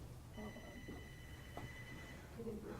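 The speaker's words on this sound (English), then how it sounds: "Is that your phone?" A mobile phone rings faintly in a sports talk radio studio, a thin electronic tone running for about two seconds beneath quiet background chatter.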